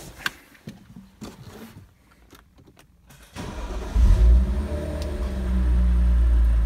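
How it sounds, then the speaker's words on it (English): A 2013 BMW 335i M Sport sedan cranks briefly and fires up midway, settling from a loud initial flare into a steady, smooth idle after a few quieter clicks and rustles. "I do want to start it up for you just to get an idea of what the engine sounds like."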